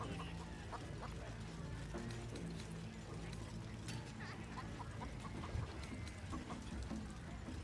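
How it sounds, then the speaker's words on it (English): Chicken clucking in the Baldur's Gate 3 video game, short scattered clucks over a busy, noisy tavern-like background hum with faint voices. "Keep that bird away from the merchandise."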